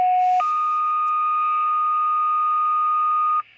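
Radio dispatch tone-out alert on a work channel heard through a mobile VHF/UHF radio in a 2002 Ford F-150: a short single tone jumps to a steady, loud two-pitch tone held for about three seconds, then cuts off.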